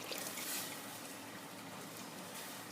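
Water streams steadily into a pot of mash dal cooking village style, a continuous, moderately loud rushing hiss lasting a few seconds with no talk.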